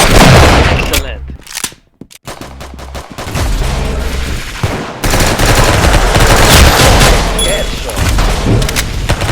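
Loud video game gunfire rattles in rapid automatic bursts with heavy booming impacts, breaking off briefly into a couple of sharp isolated shots before the dense barrage resumes and continues steadily.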